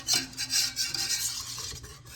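A spoon scrapes and swishes around a pot of rhubarb vanilla jelly as it heads toward a rolling boil, giving a few close, rhythmic rasping strokes with no talking.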